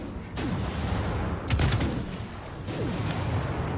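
Heavy weapon fire in Destiny 2 bursts in repeated volleys with sharp impacts around the 1.5-second mark, close and loud over a constant rumble of combat.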